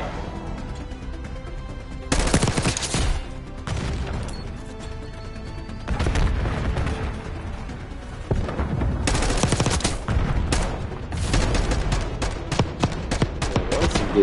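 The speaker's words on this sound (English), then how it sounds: "That was some good shooting right there" Gunfire in the video game Black Ops 6: loud bursts of rapid automatic fire, separated by short pauses, with a sharp crash and later a string of quick individual shots.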